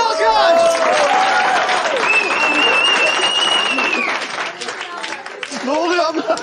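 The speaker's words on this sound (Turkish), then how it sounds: "Bir alkış." A crowd applauds loudly and continuously, with cheers and whoops rising over the clapping throughout.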